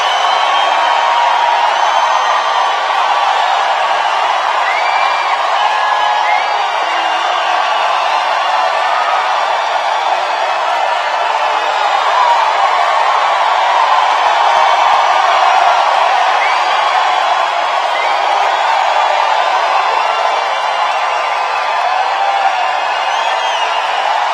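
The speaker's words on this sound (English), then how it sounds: "That's some crowd." A large crowd at a Donald Trump rally in Columbia, Missouri, roars in a steady, loud, continuous wall of cheering and whooping that never lets up.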